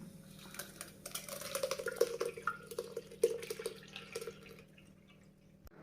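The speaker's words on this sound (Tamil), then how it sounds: "இது வடிகட்டிக்கலாம்." Blended amla gooseberry juice with ginger and lemon is strained in a home kitchen, giving soft irregular trickling and dripping with light clinks over a steady low hum, fairly close and moderate in level.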